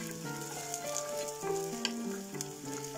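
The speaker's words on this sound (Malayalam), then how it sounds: "ഇനി ഇഞ്ചിയുടെയും വെളുത്തുള്ളിയുടെയും പച്ചമണം മാറുന്നിടം വരെ നന്നായിട്ടൊന്ന് വഴറ്റിയെടുക്കാം." Chopped ginger and garlic sautéing in a pan for a brinjal curry, giving a steady close sizzle with light stirring under a continuous hum and tonal background.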